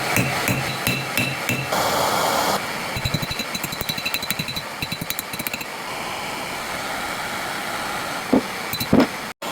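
A hammer strikes a metal bar to flatten it, a rapid run of sharp metallic blows that is loud and close, with a few heavier isolated hits near the end and no talking.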